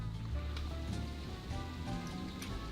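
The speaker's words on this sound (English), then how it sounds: "Okay, it's actually pouring outside." Heavy rain pours steadily outside, a dense continuous wash of falling water with no pauses, fairly loud and close.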